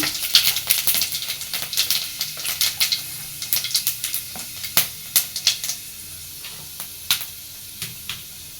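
A dried chili and panch phoron spices fry in hot oil with a steady hiss, and sharp crackles and pops burst out irregularly throughout.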